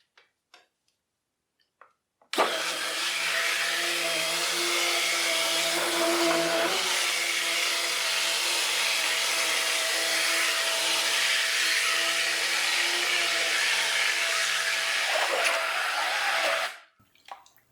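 A blender pulps torn recycled paper soaked in water for papermaking. The motor kicks in abruptly, runs as a loud, steady whirring drone for about fourteen seconds with a slight shift in pitch partway, then cuts off.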